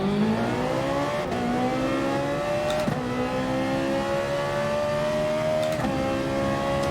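A race car on soft racing tyres in Gran Turismo Sport accelerates hard through the gears, its engine note climbing steadily in loud, close revving sweeps, each cut by a brief shift before rising again.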